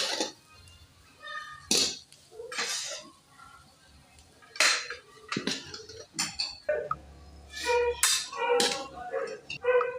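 Spoon scraping and clinking against a pot and dish as makhandi halwa is served out, a series of close, sharp metallic clinks and scrapes with pauses between them.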